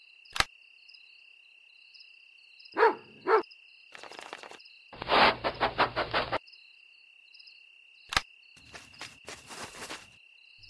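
A small dog barks a couple of times amid scattered clicks and bursts of sound, with a constant high insect-like chirping tone throughout.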